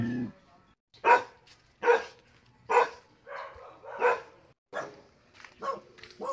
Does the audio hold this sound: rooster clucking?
no